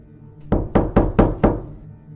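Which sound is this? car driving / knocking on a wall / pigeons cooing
knocking on a wall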